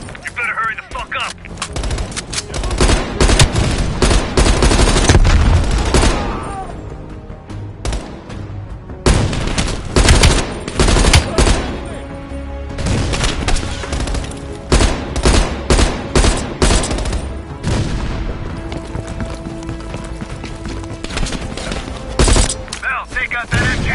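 Sustained bursts of automatic machine gun fire with heavy explosions in a Call of Duty: Black Ops Cold War campaign battle on veteran difficulty, loud and dense throughout, with voices shouting over the combat.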